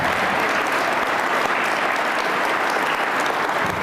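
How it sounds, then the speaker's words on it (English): Steady audience applause fills the room at an awards event, a dense even wash of many hands clapping at full strength throughout with no voices. "Applause,"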